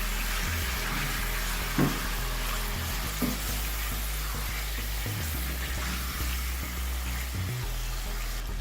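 Salt, black pepper and red chili fry in hot oil in a karahi for Karachi-style chicken karahi, a steady close sizzle with a few scraping stir knocks throughout, no voices.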